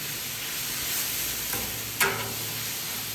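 Onions and garlic sizzle steadily on a hot Blackstone griddle, a constant close frying hiss with a brief scrape near the end and no talking.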